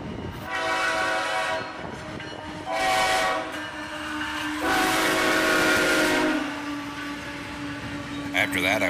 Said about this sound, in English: Nickel plate 901 here. And in front of it, we have a high hood CNO locomotive